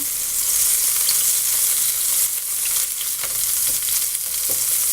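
Large scallops searing in hot oil in a pan, a loud, steady sizzle with bursts of spattering as oil is spooned and tilted across them, close and continuous without speech.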